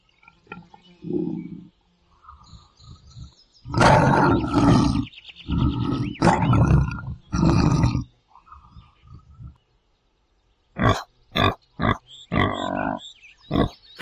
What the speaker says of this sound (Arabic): أسد.